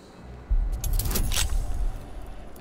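A bunch of keys jangles in Baldur's Gate 3, a short burst of metallic clinks over a low rumbling background.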